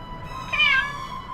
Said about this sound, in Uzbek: Mushukcham esa qo'rqqanidan daraxtga chiqib ketdi. Endi esa tusha olmayapti.